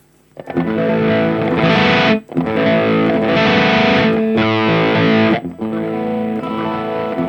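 Electric guitar played through a distorted JCM 800 amp patch rings out in loud, sustained overdriven chords, grouped in several bursts separated by brief breaks, with no talking.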